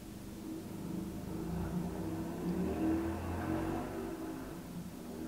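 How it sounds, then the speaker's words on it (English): A motorbike engine rises and falls as it speeds past at a distance, a steady mid-pitched drone swelling and fading. "Did you hear that? Fast motorbike,"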